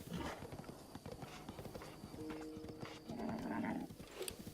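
Horse hooves clip-clop at a steady walking rhythm in Zelda: Breath of the Wild, moderately close, over game ambience with a brief whinny-like tone near the end.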